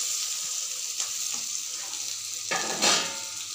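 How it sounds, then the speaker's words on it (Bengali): Soybean chunks fry with a continuous loud sizzle in a pan, while a few scraping stirring strokes rise above the hiss, the strongest near the end. "সোয়াবিনগুলো দিয়ে একটু ভালো করে কষে নেব।"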